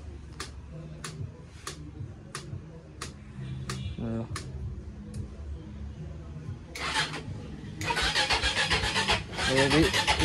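A Crossx 300 motorcycle engine starting up, with a sputtering catch around the middle before the engine runs and revs louder near the end, ticking and clicks scattered early on and voices talking throughout.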